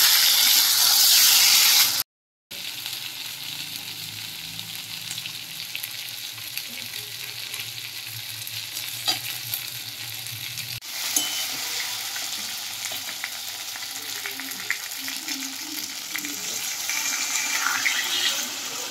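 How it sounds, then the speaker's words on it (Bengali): Water poured into fish curry spices frying in a pan, for a katla fish recipe, brings a loud hiss at first, a brief gap, then a steady bubbling sizzle that flares again later. "এবার মশলার বাটি ধোয়া জল অল্প পরিমাণে দিয়ে দিচ্ছি।"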